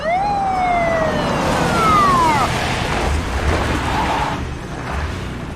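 A police siren wails loudly nearby, its pitch sweeping down and then trailing off amid steady traffic rumble.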